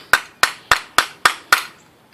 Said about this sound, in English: So after you have hammered this in